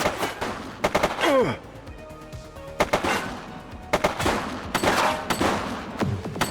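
Gunfire crackles through a tense police shootout in The Precinct, an 80s crime-city game, with several loud bursts of rapid shots spread across the scene alongside shouting voices.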